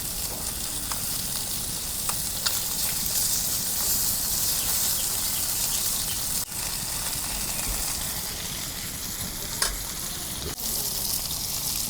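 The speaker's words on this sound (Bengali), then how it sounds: "দেখো মাছগুলো আমি ভালো করে ভাইজা নিতেছি আর উল্টে উল্টে।" Large pieces of giant pomfret frying in hot oil, a loud, dense, continuous sizzle and hiss held close for a long stretch, with occasional faint clicks and a brief dip as pieces are turned, no talking.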